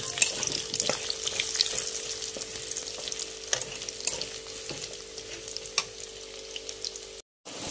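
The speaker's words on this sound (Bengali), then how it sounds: "এবার আলুগুলো ছেড়ে দেবো। আলুগুলো ভেজে নেব।" Potatoes fry in hot oil in a pan with a steady, loud sizzle throughout. Occasional stirring scrapes and taps sound close by, and a brief drop-out comes near the end.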